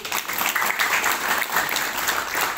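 An audience at a regional grant handover ceremony breaks into loud, sustained applause, a thick even patter of many hands with faint crowd murmur beneath.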